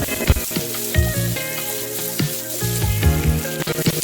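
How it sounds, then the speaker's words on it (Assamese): Loud, continuous sizzling of potatoes frying in ghee on high flame, with occasional clinks and scrapes of stirring. "আলু আৰু কণীখিনি মই বেলেগে বেলেগে হাই ফ্লেমত ঘিউত ভাজি ল'ম।"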